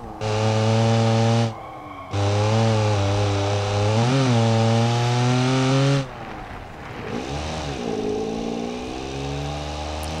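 Engine of the 47 hp car 'Kacki' driving a lap: a loud, buzzy, strained engine drone rising and falling in pitch through the gears, with brief drops in revs on shifts, close and continuous.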